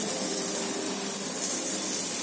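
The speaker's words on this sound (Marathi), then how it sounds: "आता हे मीडियम गॅसवर आपल्याला तळायचे" Bangda mackerel sizzles in a frying pan over medium gas: a steady, close, even hiss of hot oil with no break and no voices.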